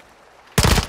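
A sudden loud burst of rapid gunfire in Call of Duty: Modern Warfare DMZ, which breaks in after a quiet background hum and lasts to the end.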